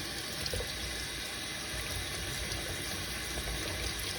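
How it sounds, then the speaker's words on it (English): The barrel of a Lamy 2000 fountain pen is rinsed under a running tap, making a steady, even rush of water that holds unchanged and alone throughout. "then just simply rinse out the barrel"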